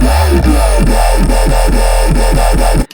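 A loud, buzzy Sytrus synthesizer saw wave with 1-to-1 sine shaper setting plays a repeating pulsing pattern with sweeping, wobbling tones, then cuts off abruptly.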